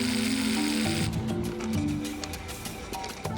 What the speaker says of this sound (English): drill a hole in the concrete.